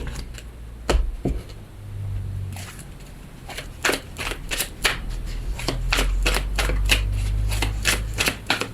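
Lenormand oracle cards shuffled during a reading, giving a run of quick, close riffling and snapping bursts that quicken toward the end, with a low room hum beneath and no talk.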